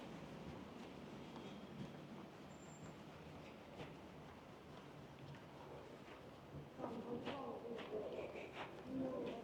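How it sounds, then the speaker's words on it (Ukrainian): A tram rumbles past on a street in Odesa with a low continuous roar and metallic clacks, growing louder toward the end, a voice faintly present. "дуже шумно, коли йде трамвай, це просто жесть"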